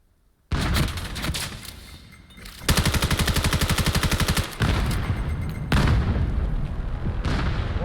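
Grenade blast and gunfire in a VR team shooter match, a sudden loud boom followed by sustained rapid automatic fire and further bursts, loud and close.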